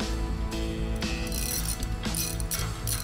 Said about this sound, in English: the mechanic will tighten the four remainder bolts, which require an inch and an eighth socket.